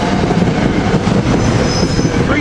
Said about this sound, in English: Here we got set the train 743 leaving for Trenton.